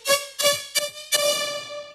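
Synth lead patch built in Serum with its comb filter switched off, playing four bright, buzzy sustained notes with clean gaps, the last held longest, alone without talk.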